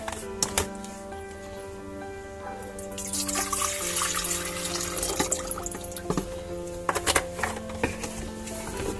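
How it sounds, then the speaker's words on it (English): Water pours and splashes steadily into a Philips HD9329 electric kettle, with scattered clinks and knocks from handling, close and continuous throughout. "so let's put some water"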